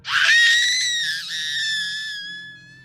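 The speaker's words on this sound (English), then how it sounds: "Eventually, she did start yelling for help, which everyone up and down the shore heard." A woman screams loudly for help from the shore, one long sustained high-pitched cry that holds for over two seconds before fading out.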